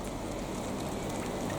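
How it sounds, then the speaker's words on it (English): Rain falls on a vegetable garden in June as a steady, dense hiss with no breaks, close and even throughout. "And you've guessed it, it's raining."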